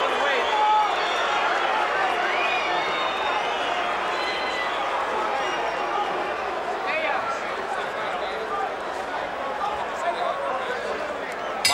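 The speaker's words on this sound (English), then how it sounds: "Some booing Moore, who stands on the ropes." A large boxing crowd at Caesar's Palace roars and boos steadily throughout, a dense wash of voices after a Holyfield–Moorer bout, with a commentator talking over the noise.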